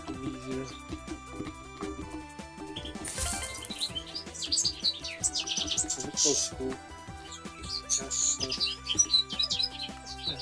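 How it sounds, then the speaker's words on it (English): A loud bird chirps repeatedly in bright, rapid bursts, close by and prominent, while someone talks throughout and electronic music plays underneath. "Oh, the bird is loud."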